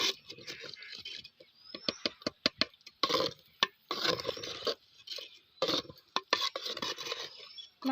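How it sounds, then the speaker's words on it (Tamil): Kodo millet pongal being stirred in a pot, with close, irregular scraping and clinking of a spoon against the metal in short bursts and pauses, fairly quiet. "நல்லா கிண்டிக்கலாம்"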